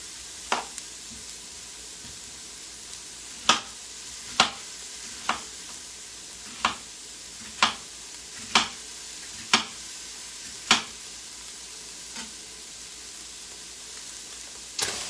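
An old onion frying in a pan for tomato and squash soup, giving a steady soft sizzle broken by a string of sharp pops and ticks about once a second, close and moderately loud with no talking.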